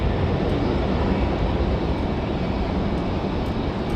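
A Southwest jet departs from Raleigh-Durham International on the far side of the field, heard as a steady, distant broadband roar that holds at an even level with no voices.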